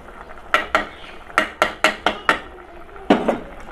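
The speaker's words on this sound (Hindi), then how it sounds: "अब हम इसके अंदर जो है लहसुन अदरक का पेस्ट शामिल करेंगे" Half-cooked desi chicken stirred with garlic ginger paste in a pot, a spoon giving a run of sharp clinking scrapes in quick irregular bursts, close and fairly loud with no talk.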